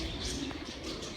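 A rock pigeon in a zoo enclosure gives a brief, soft, low coo, faint and muffled against background noise.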